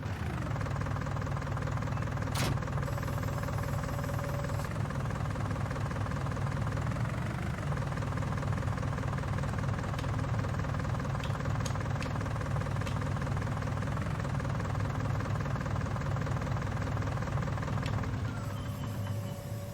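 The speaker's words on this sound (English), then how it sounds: "I'm going to let it idle for a few minutes since this has probably been sitting around the shop" A Kubota tractor engine idles steadily after sitting unused in a shop for a week or two, giving a constant close mechanical drone with a knocking undertone and a few faint clicks.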